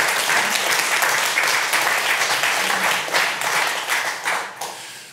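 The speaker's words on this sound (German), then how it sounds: "Gerne mal einen Applaus." A live audience at a late-night show in Ratingen applauds loudly, a dense, continuous wash of clapping that holds steady for several seconds before gradually thinning out at the end.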